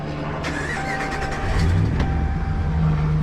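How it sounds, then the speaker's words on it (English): A Ram pickup truck engine cranks and catches, then settles into a low, steady idle nearby, with no voices. "Starts the truck, that's a bonus."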